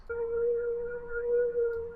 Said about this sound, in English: The next thing I added was this little pluck right here.